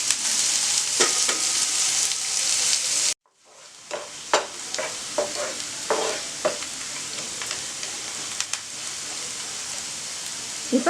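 Finely sliced onions sautéing in a pan for jeera mutton give a steady close sizzle, briefly cut off, then resuming softer with scattered stirring scrapes and crackles throughout.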